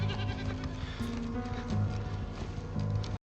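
Goats bleating over a steady, loud movie soundtrack with layered low rumble, the calls rising and falling across several seconds, with no talk.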